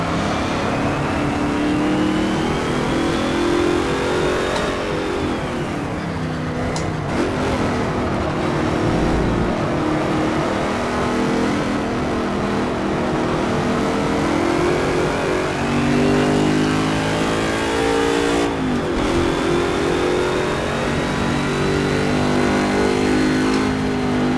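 A Ford Boss 302 engine runs in Project CARS at the Moravia circuit at night, a continuous loud engine note that rises and falls through gear shifts with no speech.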